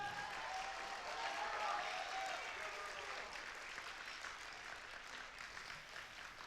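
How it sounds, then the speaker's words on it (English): A faint round of applause at a UC Personal Insight workshop: a small audience claps steadily for a few seconds in a room, sounding distant and soft, and slowly fades. "let's give one more round of applause for Amber"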